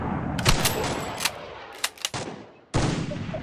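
Sniper fire in a Free Fire match, several sharp isolated shots spaced apart over a low game backdrop, loud and close, with a brief drop to near silence before the din resumes.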